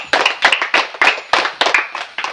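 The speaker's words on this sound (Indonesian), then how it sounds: "Ayo semua tepuk tangan." Group hand clapping, loud and close, in a steady burst of about eight sharp rhythmic claps in unison with no talk over it.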